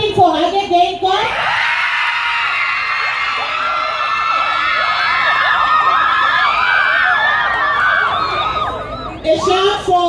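A large crowd at a live results event shouts, whoops and cheers loudly for a team, with children's yells in the mix. The roar rises after a brief voice at the start and holds steady for about eight seconds before fading under talk.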